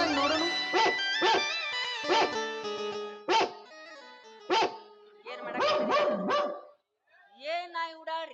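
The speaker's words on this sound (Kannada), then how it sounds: "ಏನ್ ನಾಯಿ ಉಡಾಳ್ರಿ? ಏನಾರ ಒಂದು ಸ್ಮಾರ್ಟ್ ಹುಡುಕ್ ಕಂಡ್ರ ಬೊಗಳಾಕ ಮಾಡ್ತಾವ್ರಿ." Dogs barking in a rural street, several sharp barks in uneven bursts with some whimpering yips, fairly close and loud, with a brief gap near the end.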